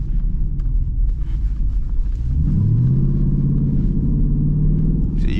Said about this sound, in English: You gonna hear it pop when you downshift regardless.